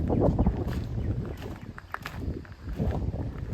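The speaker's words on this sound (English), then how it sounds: "It's really windy out here. I'm sorry if that sounds really bad" Wind buffets the microphone in low rumbling gusts outdoors in a vegetable garden in early May, with a few light knocks and rustles mixed in.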